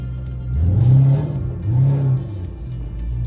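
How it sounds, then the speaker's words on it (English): A car engine revs hard twice in quick succession, each rise and fall of the rumble loud and close, with a steady idle between and after, during power-shifting runs. "you get the sound of the car"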